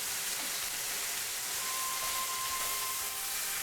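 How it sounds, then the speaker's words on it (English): Chicken frying in a pan gives off a steady, close sizzling hiss that holds evenly throughout, with no talk. "my chicken is frying"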